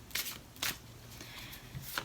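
Angel Answers oracle cards being shuffled by hand in a few soft, papery bursts, close up and fairly quiet, with no talking.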